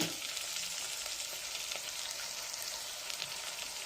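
Potatoes sautéing in oil make a faint but steady, even hiss of frying, continuous throughout with only slight flickers and no voices.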